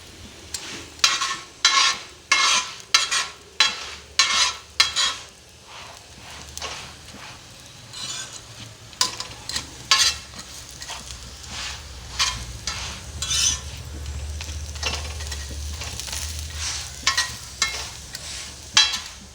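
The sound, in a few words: egg paratha frying in ghee on a pan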